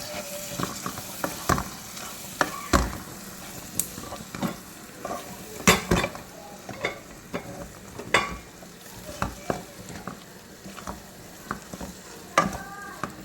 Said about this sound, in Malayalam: കുറച്ച് കറിവേപ്പില നന്നായിട്ട് മിക്സ് ചെയ്യാം